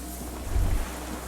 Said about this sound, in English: The distant sound of cargo ships.